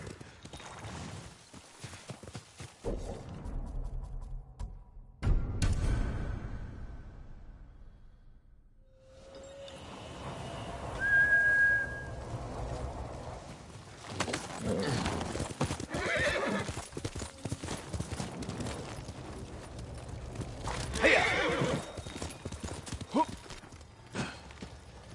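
Hoofbeats of a galloping horse clip-clop steadily through Ghost of Tsushima on Iki Island, broken by several loud whinnies and neighs, with faint game ambience between bursts.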